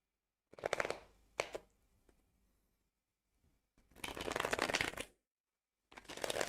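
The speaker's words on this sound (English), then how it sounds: "Let me shuffle the cards" Tarot cards are shuffled in several quick riffling bursts with short pauses between them, close and crisp, with no talking.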